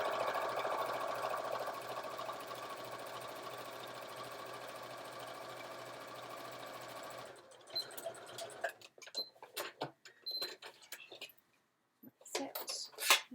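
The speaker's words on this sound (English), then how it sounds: "I'm going to have to stitch each of these individually and then change the foot and then top stitch it" A sewing machine stitches Sew Together Bag pieces in a steady, close whirring hum for about seven seconds, then gives way to scattered clicks and handling clatter.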